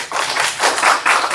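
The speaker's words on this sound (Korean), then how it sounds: "박수 부탁드리겠습니다." Brief clapping from a small audience in a city council seminar room as a speaker is introduced at a public healthcare debate, a short burst of close handclaps in uneven pulses.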